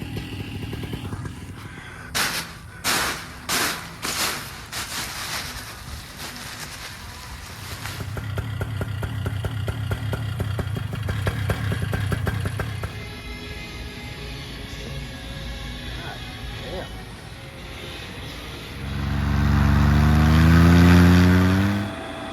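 An engine is run during carburetor tuning. It starts with a string of sharp throttle blips, settles into a steady idle, rises into a longer sustained rev, then returns to idle before a final loud, deep revving burst.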